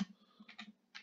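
Keys on a computer keyboard are tapped in a few quick, soft clusters close by, with short pauses between the bursts of typing.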